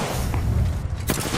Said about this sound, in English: nades exchange